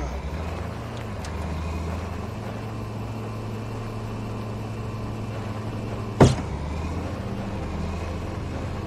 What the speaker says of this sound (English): Yo, I got a garbage truck.